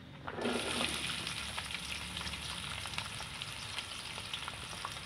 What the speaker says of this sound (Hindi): ये ऑयल अब गर्म हुआ है। तो अब इसमें हम प्याज डालते हैं।